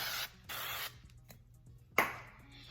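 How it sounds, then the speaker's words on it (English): Two short bursts of olive oil aerosol spray hiss, each about half a second, over taquitos, followed by a light clatter of something set down. "I'm gonna spray the top of them with a little more olive oil"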